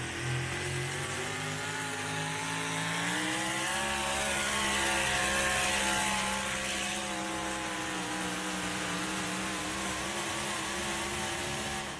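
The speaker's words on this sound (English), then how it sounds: "hitting the rev limiter right there at the end" A racing car engine screams at sustained high revs, its harmonics rising and holding as it bounces off the rev limiter at the end of a drag run, loud and continuous with no talk over it.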